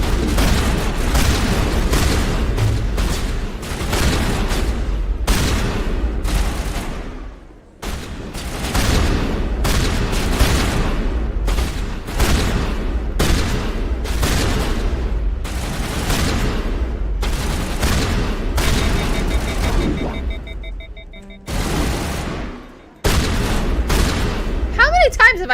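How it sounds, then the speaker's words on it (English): Continuous loud gunfire and heavy shotgun blasts from combat in Mass Effect Legendary Edition, a rapid barrage of booming shots with only brief pauses, close and dominant. "Have I shot this man with a shotgun in the face?"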